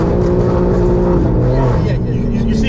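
A straight-piped BMW G82 M4 accelerates hard with wheelspin, a loud, steady, raspy exhaust roar heard close up throughout, with voices underneath.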